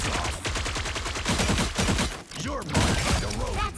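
Rapid-fire gunfire from a video game character with infinite ammo, dense bursts of fast repeated shots with explosive hits and whooshing effects, loud and continuous.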